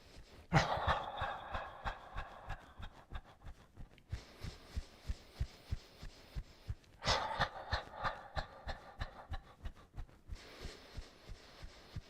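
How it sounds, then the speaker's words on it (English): Slow, deep cleansing breaths during a guided breathing exercise, with two long inhales and exhales, each rising and fading, over a soft rhythmic pulse in the background. "let's do some nice cleansing and clearing breaths"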